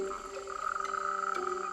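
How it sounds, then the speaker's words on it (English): Natterjack toads calling at night from a warm pond, a steady, sustained trilling chorus with overlapping voices, moderately distant and continuous throughout. "It's the turn of Natterjack toads."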